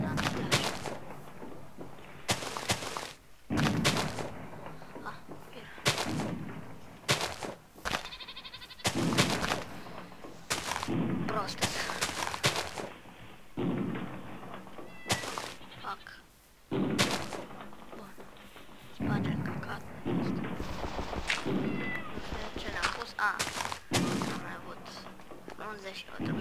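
Repeated distant booms like TNT blasts or gunfire in a Minecraft survival game, irregular heavy thuds spread across the clip, with players talking between them.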